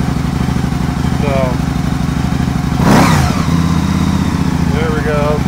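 Can-Am Spyder motorcycle engine idling steadily for a charging-system test, a close, continuous low rumble with a brief surge near the middle, faint high whine traces above.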